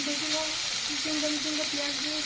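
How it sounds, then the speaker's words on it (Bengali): Chicken frying in a pan gives a steady, close sizzle throughout, with a faint recurring tonal hum layered over the hiss. "এদিকে আমার চিকেন ভাজাটা প্রায় হয়ে এলো"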